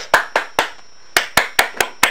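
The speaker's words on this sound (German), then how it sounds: "Applaus vor der TLF." Scattered sharp hand claps in a fire brigade simulation game with a TLF fire engine, about seven crisp claps in an uneven rhythm with a brief pause partway through, close and fairly loud.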